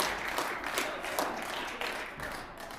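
Applause fills a legislative chamber, a dense, sustained wash of many hands clapping at moderate distance that holds steady without a clear break.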